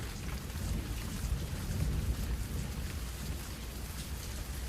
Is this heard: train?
no